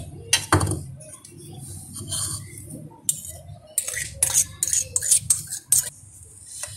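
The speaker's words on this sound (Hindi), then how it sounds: "इन दोनों को मैं मिक्स करके एक सॉस तैयार करूंगी।" Ketchup and mayonnaise stirred together with a spoon in a bowl for a bun kebab sauce, giving soft irregular clinks and scrapes of metal against dish in a quiet kitchen.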